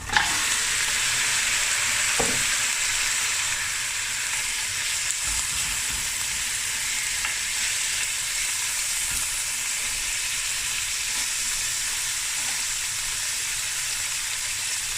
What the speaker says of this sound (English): So I'm just going to brown the meat.